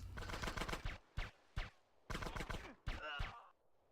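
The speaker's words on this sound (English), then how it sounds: "I'm gonna shoot them up anyway" Gunfire in GTA San Andreas, with several loud bursts of rapid shots clustered together and brief pauses between the volleys.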